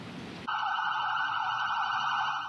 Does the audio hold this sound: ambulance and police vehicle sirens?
yes